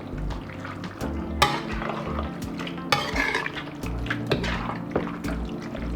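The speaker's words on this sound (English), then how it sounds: "now I'm going to stir this in now, and let this just cook for about 3 minutes or so" Stirring ingredients in a pot on the stove for chicken lasagna, with soft scraping and clinks of a utensil against the pot, punctuated by a few sharper knocks over low kitchen hum.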